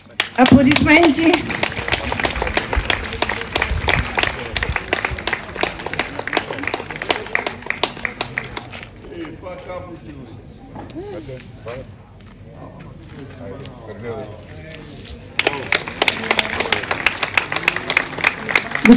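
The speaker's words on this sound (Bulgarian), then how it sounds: "Аплодисменти!" Applause breaks out at a ribbon-cutting ceremony marking a repaired road in a Bulgarian village, loud and dense at first, thinning to scattered claps and murmuring voices midway, then swelling again into full clapping near the end.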